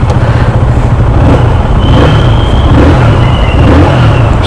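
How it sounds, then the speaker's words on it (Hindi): A KTM Duke 160 motorcycle engine fires up and revs, its steady low rumble loud and close, with throttle blips rising and falling throughout and no talking. "एंड बाइक को स्टार्ट करें।"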